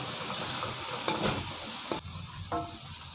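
Sliced carrots hit a hot wok with soy sauce for stir-fried yellow noodles. A steady, close sizzle is broken by a few sharp stirring scrapes and clinks.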